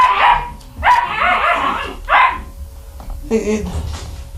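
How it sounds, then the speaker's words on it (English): A dog barks in a few sharp bursts, close by, with a short high whimper-like yelp near the end. "It is just barking."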